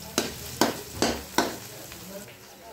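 Onion with ginger-garlic paste sizzles in a pan for pav bhaji, with four sharp scraping stirs in quick succession over a steady frying hiss, close by.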